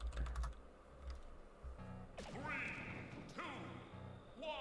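Quick clicks of a computer keyboard being typed on rapidly, brief and close at the start, then giving way to busy electronic fighting-game effects.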